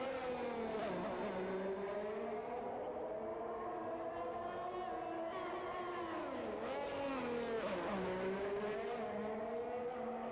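Formula 1 car engine on a flying lap at the Baku street circuit in the F1 2021 video game, a continuous loud high-pitched whine that climbs through the gears and dips briefly on downshifts, with no talk.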